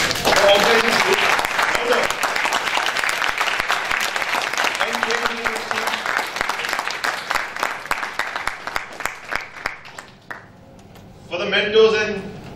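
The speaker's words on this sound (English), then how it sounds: "let's give a round of applause for organizing this group" An audience at a university startup weekend event breaks into sustained applause, with dense clapping that gradually thins and fades. A voice begins speaking near the end.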